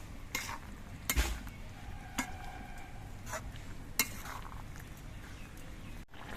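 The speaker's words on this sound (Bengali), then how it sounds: "এবার নেড়ে চেড়ে সব কিছু দিয়ে মিশিয়ে নেবো" Fried lentil dumplings being stirred into thankuni leaf shukto in a pan, with a soft sizzle underneath and several sharp clinks and scrapes of the spoon against the pot at irregular intervals, no voices.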